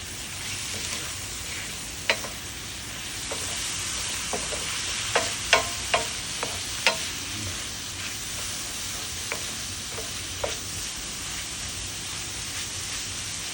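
Thyme and garlic sizzle steadily in a hot pan, with a constant hiss of frying and a few sharp pops and stirring clicks scattered throughout, close and unobscured by speech.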